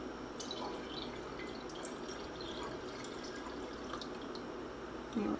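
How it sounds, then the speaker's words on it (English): Starter tea poured into a kombucha jar for fermentation, heard as a steady, soft liquid trickle with faint dripping and splashes running throughout, fairly quiet and uninterrupted by voices. "And I'm going to go ahead and pour in the starter tea."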